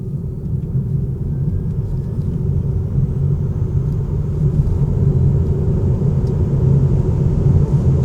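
A Tesla Model 3 Standard Range accelerates gently, a steady loud low rumble of road and cabin noise that persists evenly without pause.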